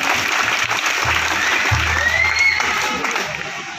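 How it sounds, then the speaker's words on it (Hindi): Loud, steady applause from a group of children at a free educational camp ceremony, clapping continuously and close by with a faint hum of voices in the background. "बच्चों जोरदार ताली बजाओ।"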